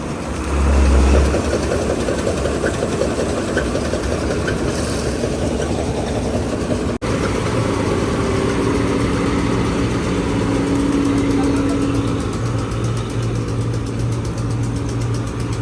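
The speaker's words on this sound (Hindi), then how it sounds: "अपने खेत में आ चुकी है गाड़ी।" A wheat harvester machine pulls into a farm field with its engine running loudly and steadily, a low continuous mechanical drone with a brief deep thump near the start and a sharp click midway.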